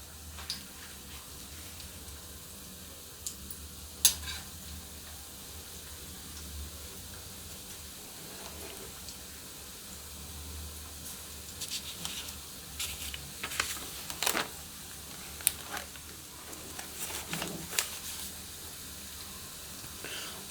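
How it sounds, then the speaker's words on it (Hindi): Litti dough balls deep-frying in hot oil, a faint steady sizzle with scattered crackles and small pops throughout, quiet and fairly distant with no talking. "लिट्टी तली जा रही है।"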